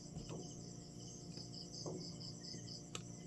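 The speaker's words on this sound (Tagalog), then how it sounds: "Hala ka langas sa kuliglig oy." Crickets chirp steadily at night in a continuous high-pitched trill, with a few faint clicks and soft background sounds underneath.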